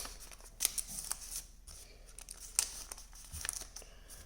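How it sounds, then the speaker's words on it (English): A sheet of paper being folded into an origami crane, with soft crinkles and a few crisp creasing snaps, quiet and close. "fold like this, turn it over, fold like this"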